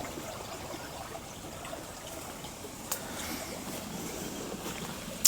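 Shallow stream water flowing over a sandy bed, a steady close trickle and burble with a few faint splashes throughout.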